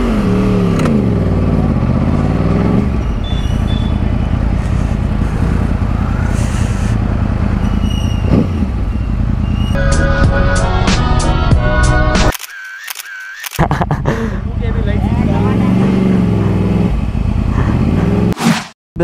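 Yamaha YZF R1 crossplane motorcycle ridden through city streets, its engine droning steadily and loudly close by, with rising revs and a brief drop partway through before the engine note returns.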